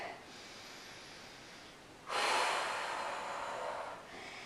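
A slow, audible breath during a Pilates forward-fold stretch: a soft inhale, then a louder, longer airy exhale close to the microphone that fades out.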